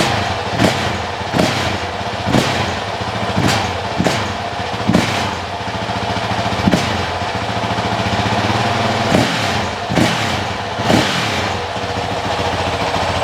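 A 2023 Honda CRF450X dirt bike fitted with a Vortex ECU runs close by, its engine note loud and steady, with a string of sharp revving bursts about once a second that rise above the idle.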